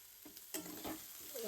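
Finely chopped onion frying in a pan for an Indian smoky eggplant bharit, a soft steady sizzle with a brief stirring scrape, quiet and close.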